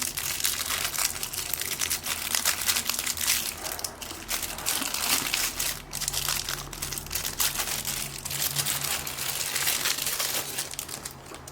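Crinkly plastic packaging of a computer LED light being torn open and unwrapped, a steady, close crackling and rustling that fills the whole stretch without pause.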